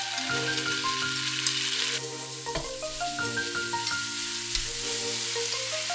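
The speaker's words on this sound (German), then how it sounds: "Nudeln in die Pfanne geben." Mie noodles sizzle and clatter steadily in a hot pan while stir-frying, a continuous frying hiss with occasional stirring knocks, with music playing over it.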